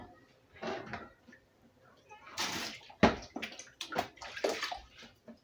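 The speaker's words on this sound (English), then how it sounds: "I'm going to drain these and then plunge them right in that cold water." Boiled vegetables are drained in a home kitchen, with water splashing and pouring in uneven bursts alongside clattering and sloshing, moderately close but fairly quiet.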